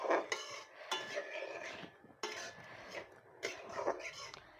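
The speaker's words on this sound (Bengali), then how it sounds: "এবারে নাড়াচাড়া করবো একটু" Winter melon chutney being stirred in a pan: repeated metallic scrapes and clinks of a spoon against the pan in uneven bursts, fairly quiet and close.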